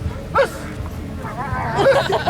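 A police dog gives a few sharp yips and barks at close range during a K-9 demonstration at a county fair, mixed with raised voices, a handler shouting commands, and commotion.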